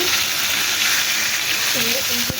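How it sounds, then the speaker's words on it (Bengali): Tilapia fish sizzles steadily in hot oil, a dense, close frying hiss that runs the whole time, with a brief clatter near the end. "মাছটা এখন আমি সুন্দর করে ভেজে নেবো।"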